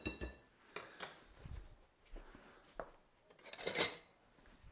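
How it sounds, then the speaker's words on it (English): A spoon scrapes and clinks around a bowl as flour and salt are stirred together for waffle batter, soft, irregular taps with one brighter clink near the end. "And just give it a quick stir to sort of mix them together"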